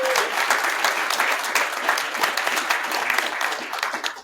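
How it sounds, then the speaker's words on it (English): A live conference audience gives steady, dense applause for guest Dr. Bassetti, a continuous wash of many hands clapping at even loudness for about four seconds, with a brief voice at the very start. "So we give a round of applause for Dr. Bassetti."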